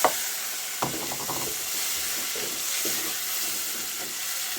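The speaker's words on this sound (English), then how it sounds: "You let the onions cook, the tomatoes cook slowly" Onions and tomatoes frying in a pan on a gas stove, a continuous close sizzle with a few sharp clicks and scrapes of a utensil near the start and again partway through.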